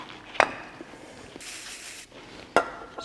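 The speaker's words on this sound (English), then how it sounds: "Spray a little bit of solvent on your rag." Two short, sharp bursts of solvent sprayed onto a rag, separated by a soft hiss, close by and fairly quiet.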